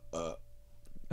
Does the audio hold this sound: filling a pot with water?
no